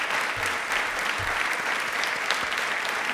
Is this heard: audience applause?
yes